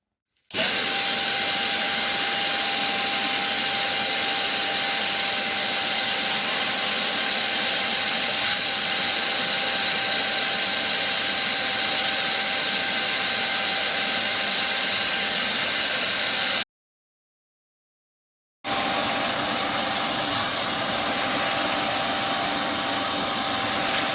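A Texam turbo injector extractor machine runs with a steady, loud mechanical whine and hum, cutting out abruptly for about two seconds near the end before starting up again; no voices are present.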